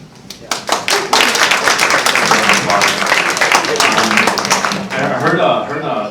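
An audience at an esports and gaming community talk claps in a rising burst of many hands. The clapping is dense and sustained and thins slightly near the end, where a voice briefly comes through.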